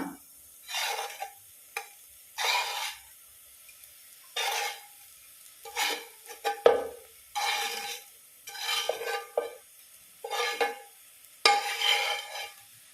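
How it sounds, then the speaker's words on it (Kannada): Fried sardines being placed piece by piece into masala in a pan, giving a series of short sizzling and stirring bursts with brief scraping clatters, close and fairly quiet, no voices. "ಈ ಫ್ರೈ ಮಾಡಿಟ್ಟಂಥ ಮೀನನ್ನು ನಿಧಾನವಾಗಿ ಒಂದೊಂದೇ ಹಾಕುವ"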